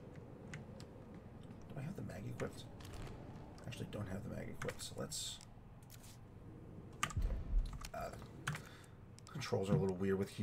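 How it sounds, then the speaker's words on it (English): A computer keyboard clatters with scattered keystrokes and clicks in bursts, fairly close and quiet, while playing Resident Evil 3; soft speech-like sounds drift in between. "Keyboard."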